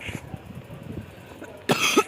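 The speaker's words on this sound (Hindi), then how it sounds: "इतनी खांसी क्यों आ रही है मुझे?" A short burst of coughing from one person near the end, after a stretch of faint background noise and muffled sounds.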